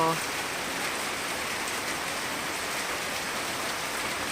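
Steady rain hisses as a dense, even wash of noise, a continuous downpour with no breaks.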